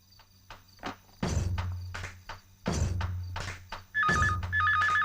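An electronic telephone ringtone beeps in repeated warbling bursts near the end. Before it, there are sharp, loud thuds and movement noises in a quiet room.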